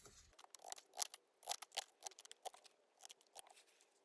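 Scissors snip through paper for a journal envelope in a run of quick, crisp cuts, close up and fairly quiet, with irregular rhythm and brief pauses between snips.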